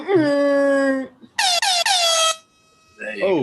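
Loud air horn blasts, a long steady honk followed by a run of three sharp repeated blasts and a shorter final burst, close and piercing, with a voice briefly in between.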